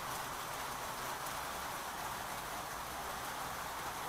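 Steady rain falling outdoors, a soft even hiss that stays constant and fairly faint throughout, with no voices over it.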